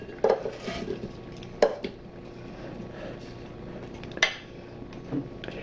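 Potatoes spooned out of a frying pan into the bottom of a casserole dish, with a few soft scraping clinks of a metal spoon against cookware spaced apart in a quiet kitchen.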